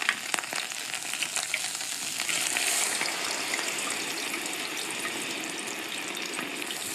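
Salt cod frying in hot olive oil for bacalhau à Brás, a steady close crackling sizzle that holds at an even level throughout with no talking.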